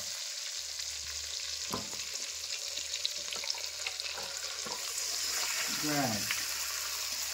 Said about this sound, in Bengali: এবার আমরা আমাদের ম্যারিনেট করা চিকেনটা ঢেলে দেবো।